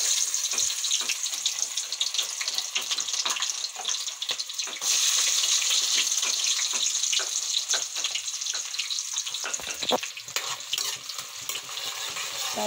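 Onions and cumin sizzle steadily in hot oil for a home-style fali and matar dish, with a dense, continuous frying hiss and occasional stirring clatter throughout, no voices.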